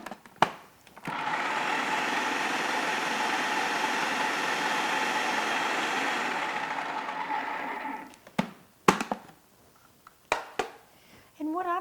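A blender or food processor whirs steadily for about seven seconds, mixing flour, sugar and salt for an almond tart dough, then stops, followed by a few knocks and clatters.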